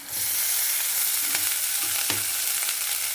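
Pieces of idli hit hot oil for idli pulihora and fry with a loud, steady sizzle, with a few faint clicks of stirring in the background.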